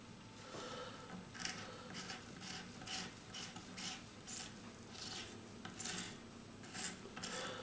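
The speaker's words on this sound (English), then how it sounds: "So we'll get in and see if we can scrape some of this off." Residue being scraped off a 1959 Gibson Les Paul Junior guitar, a quiet rhythmic series of short rasping strokes, about a dozen in steady succession, close up with no talking.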